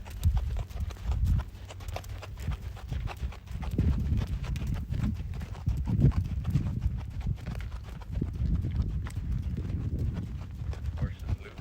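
A loose horse's hooves clop unevenly across the ground, close by, in a steady patter that runs under intermittent talking during a lead-change training session.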